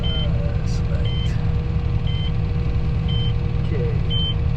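A no-till corn planter sounds a warning alarm as its seed hopper runs empty: short, evenly spaced high beeps repeat about once a second over a low, steady tractor engine rumble.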